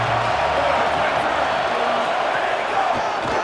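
College football video game stadium crowd, a dense sustained roar of many voices cheering at steady high loudness, with commentary speech mixed in.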